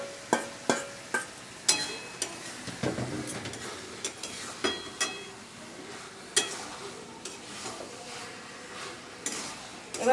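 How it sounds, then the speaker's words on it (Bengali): Marinated chicken going into hot spiced oil for a chicken curry, giving a steady sizzle broken by repeated sharp clinks and scrapes of a spoon against the pot, heard up close. "এবার আমি ম্যারিনেট করে মাংসটা দিয়ে দেবো।"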